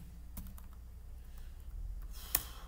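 A command typed on a computer keyboard during an Arch Linux setup, a few soft, quiet key taps over low background hum, ending with one sharper keystroke like Enter.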